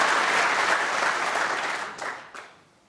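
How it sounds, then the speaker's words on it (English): A snooker crowd at the World Championship applauds frame ball with a steady wash of clapping that tapers off, leaving a few last claps and a brief voice at the end. "The applause for frame ball."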